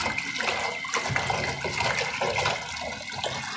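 Running water splashes continuously as kangkong leaves are washed under the flow, a close, fairly loud rushing with small shifting splashes and no voices.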